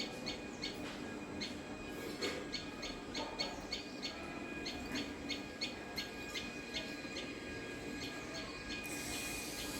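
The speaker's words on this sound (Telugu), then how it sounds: "ఇట్లా మబ్బుతోటే వస్తాయి ఇక పక్షులు" Repeated short bird calls at dawn ring out at an irregular pace over a quiet, steady background, moderately distant and fairly faint.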